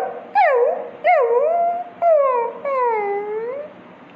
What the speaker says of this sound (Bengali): ঘেউ